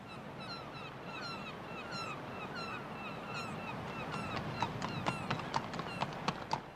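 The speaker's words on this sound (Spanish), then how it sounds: "Napoleón pasó aquellos días montando a caballo" Horse hooves clip-clop steadily at a walk in an outdoor setting, with regular hoof strikes getting clearer toward the end, heard under a busy background of chirping birds and ambient noise.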